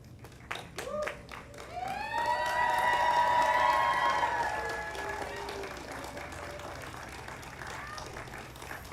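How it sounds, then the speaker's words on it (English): At a physician assistant program graduation ceremony, a large indoor audience gives sustained standing applause for faculty and staff. The clapping and cheering swell, then slowly fade to a softer patter. "This is your opportunity to stand and offer a round of applause and thanks for the faculty and staff"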